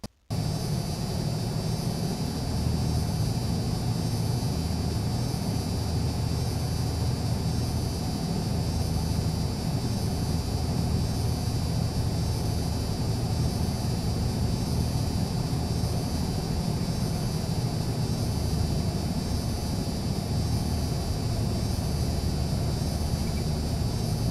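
Twin engines of a Piper PA-23 Aztec in a flight simulator drone evenly as the plane taxis onto the runway, a constant steady hum with no talk.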